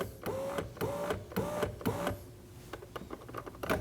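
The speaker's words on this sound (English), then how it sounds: "Go ahead and raise the window up until you get to see the 10mm bolt." Power window motor in a 2011-2016 Kia Optima front door whining in repeated short bursts as the window is raised, with clicks and clunks between runs, close and moderately loud.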